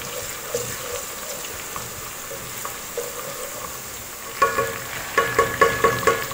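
Onions turning translucent in a pan sizzle softly as chopped ginger, garlic and asafoetida go in, with a few sharper stirring clinks and crackles near the end.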